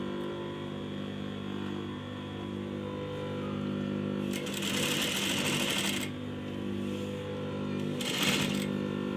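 A sewing machine stitches the neckline of a kameez for a gota-work sharara outfit, running in steady mechanical bursts, with louder busy stretches around the middle and again near the end over a constant close hum, with no talking.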